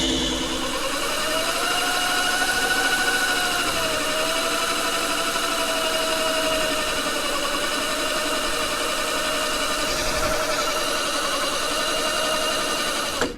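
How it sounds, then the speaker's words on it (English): A 36V 500W Taxi Garage-upgraded TG Crazy Kart electric go-kart doing a tire burnout, a steady loud motor whine with rising and falling pitch sweeps held over a continuous rough hiss of spinning rubber. "Smoke what's left of that tire."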